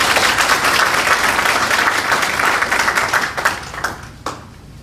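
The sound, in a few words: applause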